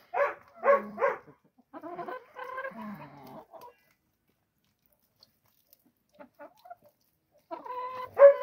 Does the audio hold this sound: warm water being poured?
no